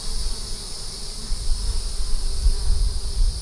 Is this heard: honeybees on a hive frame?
yes